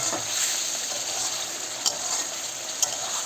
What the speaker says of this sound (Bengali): তো একটু নাড়াছাড়া করে নিই যেহেতু আমি মশলা তৈরি করছি